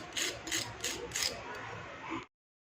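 Crisp, freshly fried shakarpara biscuits snap and crunch as they are broken by hand, four sharp crackling bursts in quick rhythm followed by softer crumbling, close and clear with no talk.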